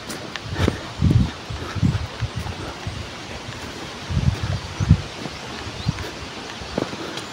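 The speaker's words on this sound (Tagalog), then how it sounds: "Nag-iba yung ihip ng hangin" Steady gusty wind rushes across the microphone, with low rumbling bursts and a faint rustle throughout; no voices.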